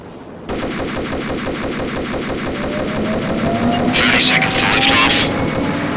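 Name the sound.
gunfire shooting at cables, from video game Max Payne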